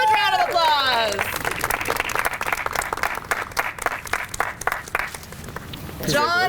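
An audience at an outdoor community celebration for a rain-garden program bursts into sustained applause and cheering, loud and continuous for several seconds, with a voice talking briefly at the start and again at the end.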